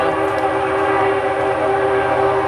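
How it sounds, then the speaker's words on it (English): A passing train rumbles loud and close, a steady tonal drone with a sustained horn blast running through the whole stretch, no voices. "That's a train."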